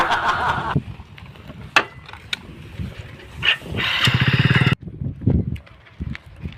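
A motorcycle engine sputters, then catches and buzzes steadily for under a second before cutting off, among scattered knocks and handling noises.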